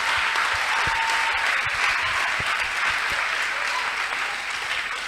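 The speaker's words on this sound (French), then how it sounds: "Est-ce qu'on peut acclamer pour le Seigneur quand même?" An audience applauds steadily at a French Christian talk show, a dense wash of clapping that holds at an even, fairly loud level throughout with no voices rising above it.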